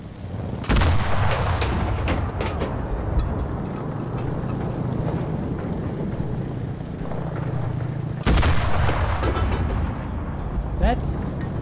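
Tank cannon fire from a T-34-85 in the WWII shooter Enlisted, Battle of Berlin: two heavy booming shots several seconds apart, each loud and sharp over continuous rumbling battle noise, with smaller gunfire scattered between.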